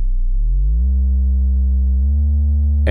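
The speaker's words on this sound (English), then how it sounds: "Same goes for the second oscillator, only that this is a triangle and not a sine wave" Moog Labyrinth synthesizer triangle oscillator run through wave folding, a loud, buzzy sustained tone that glides upward, holds steady, steps up once more, and ends with a short bright burst.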